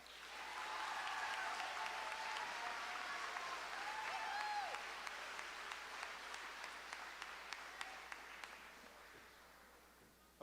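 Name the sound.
audience applause for promotion class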